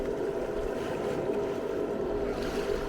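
A boat engine-room blower hums steadily aboard a homemade aluminum sailboat mid-Atlantic, its main engine shut off; an even, continuous low drone with faint wind and water wash, no voices.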